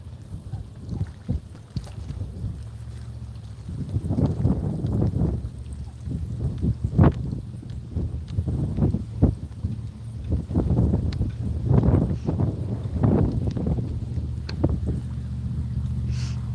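Gusty wind buffets the microphone in uneven bursts on early ice while ice fishing, a low rumbling roar that swells and fades over open water.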